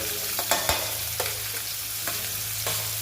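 Chopped onion frying in hot oil in a pan for Kolhapuri chicken, a steady close sizzle with several sharp stirring scrapes spaced through it.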